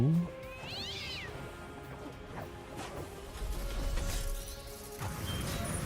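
A single high, bending meow near the start, followed by clattering game sounds and a brief low crash over a quiet background, from the video game Code Vein II.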